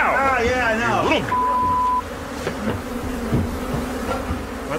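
Swarm of Africanized killer bees pouring out of a disturbed hive to attack, a dense, continuous buzzing close by, with a person talking over it and a brief electronic beep early on.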